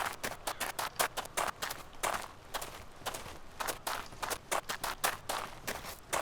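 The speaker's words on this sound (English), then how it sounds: "these footsteps, man, they are way too loud" Rapid, loud footsteps of a player character moving through the ArmA 2 DayZ game world, a steady crunchy patter of close steps with no talk over them.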